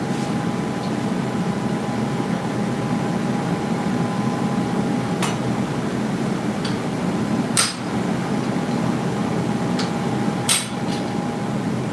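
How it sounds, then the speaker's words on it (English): Hand hammers strike a cold steel spoon being forged, a few sharp metallic blows spaced irregularly over a steady hum of background noise. "It's cold, so I'll use my kind of store-bought hammers on it."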